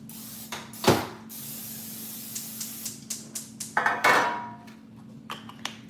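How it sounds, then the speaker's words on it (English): Short hissing bursts of cooking spray onto a 13 by 9 metal baking pan, two louder blasts separated by light clatter and knocks of the pan being handled. "we got to spray our pan"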